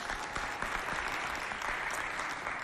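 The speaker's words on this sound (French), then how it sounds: "applaudissez très fort pour elles" An audience at a school festival show applauds loudly, a thick continuous burst of many hands clapping at once that stays steady and full for the whole stretch.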